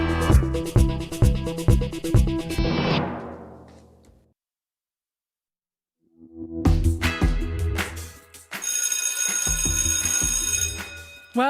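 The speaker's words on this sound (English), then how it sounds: "That is the sound of a school bell ringing," An electric school bell rings loudly in sharp metallic bursts, falls silent for about two seconds, then rings again in a sustained, harsher clatter.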